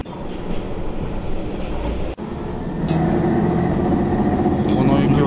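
Inside a moving local train out of Kiryu, Gunma, running beside the Watarase River, the carriage rumbles steadily with a brief dip and then a louder, rougher rolling noise, while people talk.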